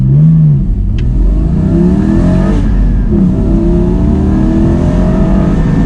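A Porsche Boxster Spyder accelerates hard on a test track toward an emergency stop, its engine loud and close, climbing through revs with an audible gear change partway and a steady roar to the end.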